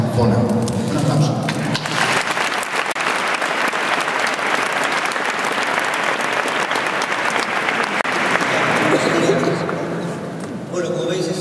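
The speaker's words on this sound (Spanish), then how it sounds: "Un aplauso." Audience applause at a concert: loud, dense clapping rises quickly and holds steady for around ten seconds before tapering, with a voice briefly heard at the start and end.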